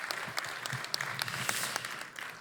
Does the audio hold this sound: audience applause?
yes